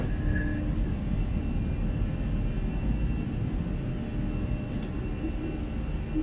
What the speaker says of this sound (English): The jet plane took off from that side.